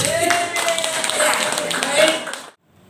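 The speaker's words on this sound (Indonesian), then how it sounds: "Kita tepuk tangan." A church meeting audience claps together for a couple of seconds, a lively dense patter with a voice carrying over it, then the applause stops abruptly.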